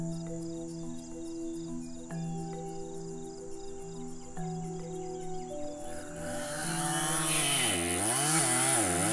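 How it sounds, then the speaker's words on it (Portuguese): A chainsaw fells a large tree in the Amazon rainforest. The engine drones steadily with a few throttle blips, then surges into a loud, wavering high-revving cut near the end. "meto um motosserra e derrubo"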